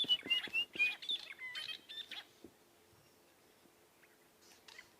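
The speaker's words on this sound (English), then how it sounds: "And then in the background, the white-browed scrub robin." A white-browed scrub robin sings a quick series of bright, varied chirps and whistles, then falls quieter with a few faint notes near the end.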